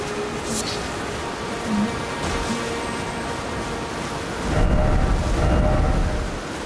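Rain pours steadily in an open-world fantasy game as a thunderstorm rolls in, with a deep rumble of thunder building loudly in the last couple of seconds over the constant wash.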